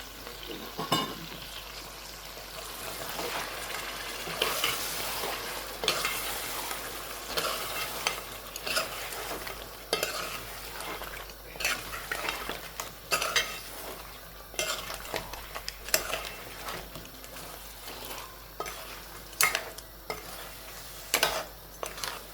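A mixed dish with onions and spices fries in a pan over high gas, with continuous sizzling and irregular scraping and clinking strokes of a stirring utensil, close and without voices.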